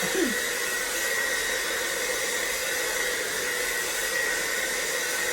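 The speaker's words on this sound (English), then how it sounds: "that blow dryer. It's acting like it's blowing the product out" A hair blow dryer runs continuously close by, a steady loud airy hiss with a faint whine, unchanging throughout while being used during a haircut.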